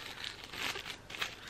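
A plastic bag is handled up close, giving a soft, brief crinkling and rustling that stays fairly quiet throughout.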